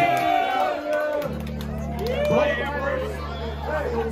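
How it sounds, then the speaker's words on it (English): A small live-music crowd at a band's gig cheers and whoops over held instrumental tones, voices shouting and chattering close by with lively, uneven bursts of enthusiasm. "Give yourselves a round of applause."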